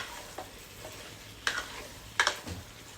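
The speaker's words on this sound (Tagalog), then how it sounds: "Haluin lang natin." A spoon stirs chicken bicol express with chopped siling panigang chili in a pan: a few soft scraping strokes and low sizzling, fairly quiet, with no voices.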